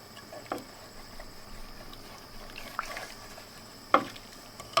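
A sugared mixture for German potato salad is stirred in a pot, giving faint wet swishes and a few soft clinks against the side, quiet and close with no talk.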